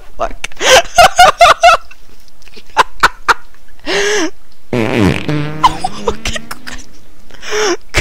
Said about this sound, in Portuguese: Que peido sonoro